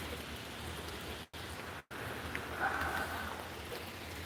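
Steady rain falls during a nighttime storm, a constant broadband hiss that runs throughout with two brief dropouts, no voices present.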